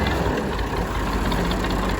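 A tractor engine idles on a farm on a sunny day, giving a steady, continuous low rumble with a faint knocking texture. It holds at an even loudness throughout, with no talk over it.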